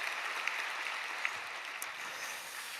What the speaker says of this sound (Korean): 우리 예배를 받으실 하나님께 감사의 박수 드리겠습니다.